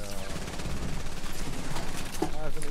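Gunfire in a video game: rapid automatic bursts crackle continuously and loud through the whole stretch, dense overlapping shots with no pauses.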